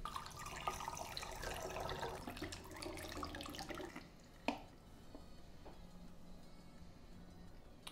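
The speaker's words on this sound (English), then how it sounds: "all we want to do is put the developer back into our bottle." Used film developer is poured back into its storage bottle during home film developing, a steady liquid pour for about four seconds that then stops, followed by a sharp clink and faint drips.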